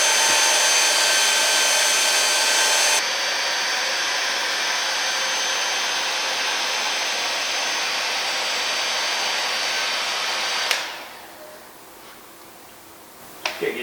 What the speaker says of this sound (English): To make it easier to remove the sticker, we're going to heat it up with a hairdryer.